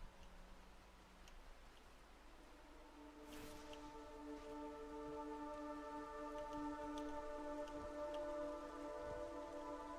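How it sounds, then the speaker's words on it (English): Steady rain in a video game set in a forest, a soft constant patter that swells louder after a few seconds, with sustained musical tones layered over it. "Oh no, it's raining."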